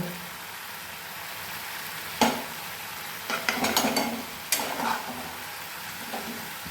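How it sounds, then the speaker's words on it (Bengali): Raw jackfruit curry being sautéed and stirred in a pan over a soft continuous sizzle, with several sharp scrapes and clinks of a spoon against metal in a cluster near the middle, close and without talk. "এবারে কিছুক্ষণ এটাকে কষে নেব।"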